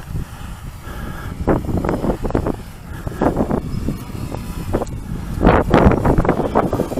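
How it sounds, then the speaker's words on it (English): Gusty wind buffets the microphone during a drone flight in uneven bursts, swelling and dropping over a low rumbling background. "you can probably hear the wind really pick up"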